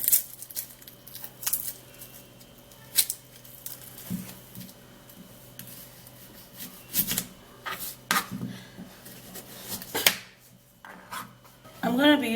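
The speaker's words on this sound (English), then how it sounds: "peeling the onion" An onion being peeled by hand gives quiet, irregular papery crackles, snaps and rubbing sounds close by, with pauses between bursts.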